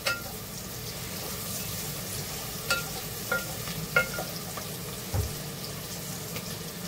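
Long-cut slices of onion cook in a pan with a low, even sizzle, punctuated by several distinct stirring clinks and scrapes spaced a second or so apart; nobody talks.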